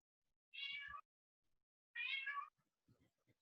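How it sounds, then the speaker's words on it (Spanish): A cat meows twice, two clear mid-pitched calls about a second and a half apart, somewhat distant and faint in an otherwise quiet indoor room, with small soft knocks after. "Hay un gato por ahí que se escucha."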